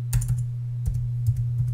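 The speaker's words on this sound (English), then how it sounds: "I'm just typing with one hand." A few light keyboard taps in irregular clusters over a steady low electrical hum, close and fairly quiet.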